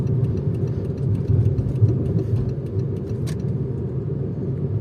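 A steady tractor engine rumbles at a low idle nearby in a potato field, with a constant mechanical drone and a brief sharp click partway through.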